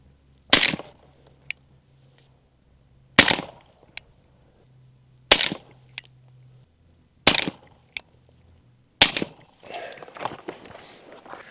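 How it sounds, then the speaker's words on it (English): HK USP pistol shots at an outdoor shooting range, five loud, sharp single reports spaced about two seconds apart, each followed by a faint metallic ping from a steel plate target, with brief rustling after the last. "we're just going to be doing some offhand shooting and seeing how well we can make contact with the steel plate"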